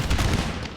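Cannon and musket volleys in a Napoleonic-era Empire: Total War battle, a dense, continuous rumble of overlapping gunfire with line infantry shooting it out, loud and sustained with no talk.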